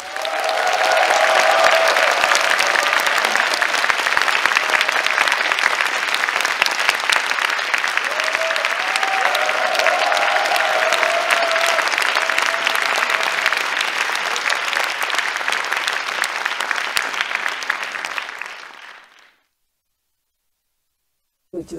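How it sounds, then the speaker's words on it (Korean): Large audience giving loud, sustained applause to welcome the first stage performance at a lecture concert, a dense continuous roar of clapping with brief vocal or tonal swells, fading out near the end and followed by silence. "그럼 오늘의 첫 번째 스테이지 큰 박수로 청해 듣겠습니다."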